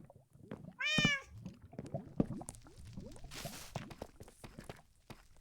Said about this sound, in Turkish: Lavda yanmayan ilk kedi.